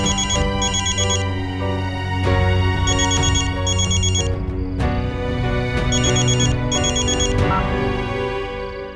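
A phone's ringtone chirps in repeated bright bursts over a steady musical score in a Hindi television drama scene, ringing on insistently with no one speaking.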